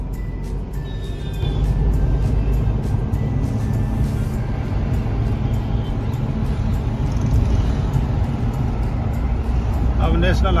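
Car cruising along National Highway 2 in India, steady close engine and road rumble inside the cabin, fairly loud and continuous throughout, with a voice talking over it.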